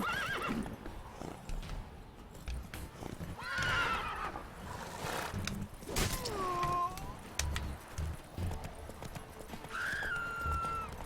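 A horse in the video game The Witcher 3 gallops with quick rhythmic hoofbeats, several loud whinnies and snorts breaking through over muffled background game sounds.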